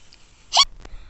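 A Furby toy lets out a single short, sharp electronic hiccup, clear and close, followed by a fainter brief chirp, with no talk over it.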